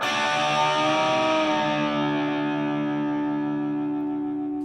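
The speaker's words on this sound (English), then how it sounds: "we're going to bend that note, those two strings, and bend back down" Distorted electric guitar in a metal lead bends two strings up and lets them back down, the sustained pitch sliding smoothly while the tone stays loud and thick throughout, alone with no talk.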